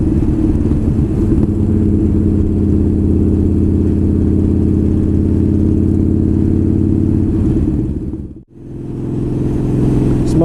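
A Broken Bolt motorcycle engine drones steadily while riding at the speed limit, a close, loud, even low hum that dips sharply to near silence for a moment before building back up.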